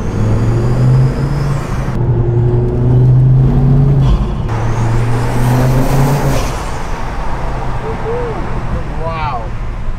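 Ford Focus ST MK2 engine fitted with an MVT intercooler and induction kit, a loud steady drone with revs rising and falling and a thin whine on top, recorded close with a voice speaking over it.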